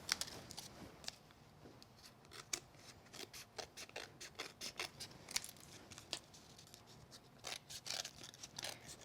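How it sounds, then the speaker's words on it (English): Scissors snip paper around a card frame in a close, quiet crafting session, with a steady series of short crisp cuts and soft paper rustle between them. "I usually just angle my scissors around that so I can catch it right under the frame"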